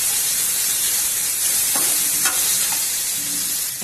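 Capsicum sautéing in a pan with ginger and garlic gives a steady, close, loud sizzle and frying hiss, with a few brief stirring scrapes partway through and no voices.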